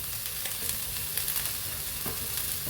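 Chopped onions hit hot oil in a pan for green chilli chicken curry, producing a steady, loud sizzle and crackle of frying with faint stirring scrapes throughout.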